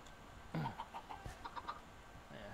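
Minecraft chickens cluck in a short, quiet burst of rhythmic clucks, heard close up with no talking.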